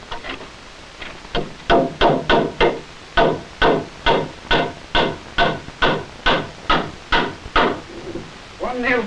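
Nails are driven by hammer into a wooden joist beam on top of posts for a fallout shelter, about sixteen sharp, evenly paced close blows in a steady rhythm, each ringing briefly.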